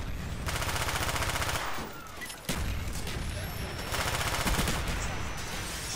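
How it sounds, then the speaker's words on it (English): An enemy mortar strike pounds down in Black Ops 1, with a dense, continuous barrage of booming impacts and crackling fire that briefly dips before resuming at full strength. "Enemy mortars, take cover."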